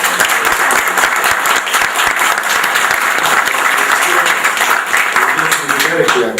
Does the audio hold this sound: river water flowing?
no